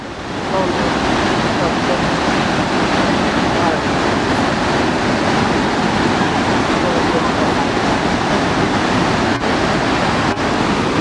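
Victoria Falls sends up a constant heavy roar of falling water, a broad unbroken rush with some wind buffeting the microphone, steady and loud from start to finish.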